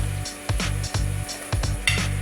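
Oil and smoked neck bones sizzle in a pot for lima beans, a steady frying hiss broken by a few sharp clinks and stirring knocks.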